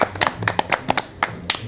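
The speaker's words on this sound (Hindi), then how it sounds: "तालियां बहुत सारी" Audience clapping at a morning show studio, a short burst of brisk, uneven claps from a small group, fairly quiet and not too close.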